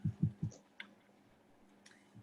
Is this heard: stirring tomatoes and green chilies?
no